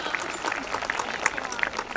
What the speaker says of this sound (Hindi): जोरदार तालियां हो जाए आज के हमारे मुख्य अतिथि और सभी अतिथियों का।